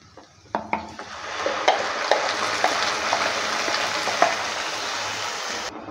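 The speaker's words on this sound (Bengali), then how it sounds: "পেস্টটা দেওয়ার পর ভালো করে আবারও নেড়েচেড়ে নিচ্ছে" Onion leaf paste fries and sizzles steadily in a pan after garlic and onion, with a spoon stirring and scraping through it; a few sharp clinks at the start, then continuous close sizzle with light stirring knocks, no voices.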